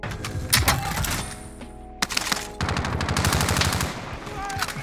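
Rapid automatic gunfire from a Call of Duty Warzone match, an ODEN rifle in a long-range setup on Rebirth Island, loud close bursts of many shots with a short pause midway.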